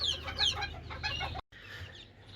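Several hens cluck and chatter close by in a busy, continuous jumble of short calls while eating watermelon rinds, briefly cutting out before resuming.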